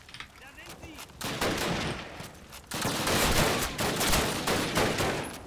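Bursts of automatic gunfire from Russian guns in the Call of Duty video game, dense rattling volleys filling the clip with a brief lull before a louder sustained stretch.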